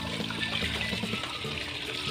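Water is poured steadily onto homemade plant fertilizer, a continuous splashing trickle at close range with no voices.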